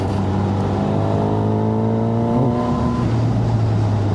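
A Honda CB1000 Hornet SP motorcycle accelerates hard with the front wheel lifting, its engine note climbing steadily and loudly as wind rushes past throughout.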